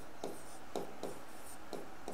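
Pen or pencil writing numbers by hand on paper during a maths lesson, five short, close scratching strokes spaced about half a second apart, quiet and with no talk.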